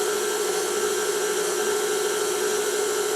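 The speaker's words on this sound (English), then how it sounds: "you turn your mixer on" KitchenAid stand mixer driving a spiralizer attachment at low speed, a continuous motor whine with a steady mid-pitched hum, close and even, no talking.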